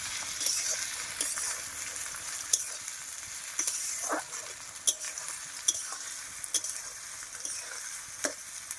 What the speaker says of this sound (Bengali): একটু লাল করে পেঁয়াজটা আগে ভেজে নেব।